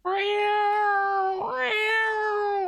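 Cats meowing loudly and close, one long drawn-out harmonic meow with a brief break midway before the wail resumes, sounding nonstop.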